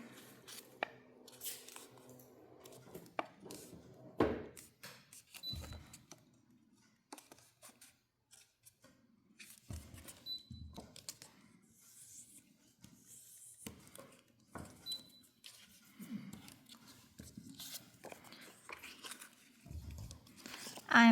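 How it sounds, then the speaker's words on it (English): Paper envelope being folded and pressed with a bone creaser for a travel journal, giving intermittent crinkles, soft scrapes and sharp creasing strokes at close range, spread across the whole stretch with quiet gaps between. "I am personally using a bone creaser to help me with these."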